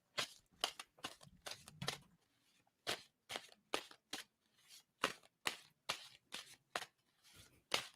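Playing cards shuffled over and over at close range, a quick run of crisp, papery bursts with short gaps between them and no voices.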